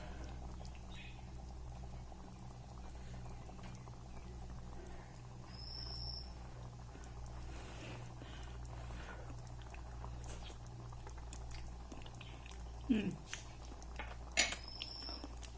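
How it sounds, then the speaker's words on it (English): Mushroom masala with tomatoes simmers in a pan, a faint, steady low bubbling with occasional soft pops and a couple of sharper clinks near the end. "it's bubbling."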